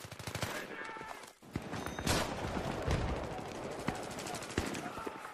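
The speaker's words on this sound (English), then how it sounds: "Man, I'm getting shot at." Automatic weapons fire in Battlefield 3 on the Wake Island map, with rapid bursts of close machine-gun shots and scattered single cracks under heavy background battle noise, with a voice briefly heard.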